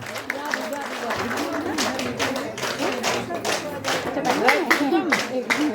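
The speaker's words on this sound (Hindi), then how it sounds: "जोरदार ताली आदरणीय धर्मोड़ जी को" Audience clapping for a guest at a Ramlila stage event, a steady patter of hands with a voice over it throughout.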